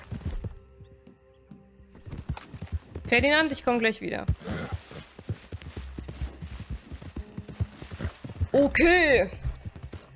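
Horse hooves clip-clop on a ground surface in Red Dead Redemption 2, steady and moderately close, mixed with game sounds, while someone talks over them throughout.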